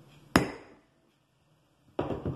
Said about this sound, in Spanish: arriba del hierro, cincel, ubico, martillo en mano, un solo golpe.